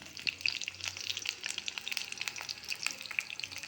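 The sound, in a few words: garlic frying and crackling in hot oil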